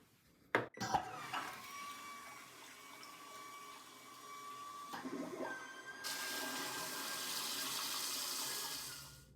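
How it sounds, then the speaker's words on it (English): A Casta Diva smart bidet toilet flushes after a click, water rushing and swirling steadily, then rising to a louder hissing refill, close and alone. "Let's try to flush it."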